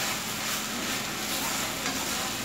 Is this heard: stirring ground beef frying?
yes